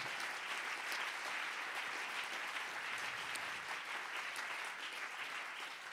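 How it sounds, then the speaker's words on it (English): Worshippers at a staff chapel service clap their hands together, a steady and fairly even wash of applause that holds from start to finish at moderate distance. "Clap your hands one more time"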